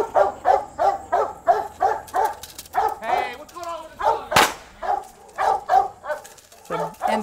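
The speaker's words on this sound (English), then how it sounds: "Tawny, Prufenpuden bred giant schnauzer, fixing to show off a little bit." A giant schnauzer barks in a fast, steady string of loud, close, deep barks during protection work, with a brief whine and shuffling noises in between.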